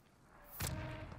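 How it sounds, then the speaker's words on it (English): Gunfire erupts in a Warzone match, with a sudden loud burst followed by sustained rumbling shots and a faint tone beneath, after a quiet start. "They're shooting right now."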